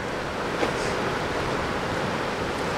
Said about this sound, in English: the rain is still coming down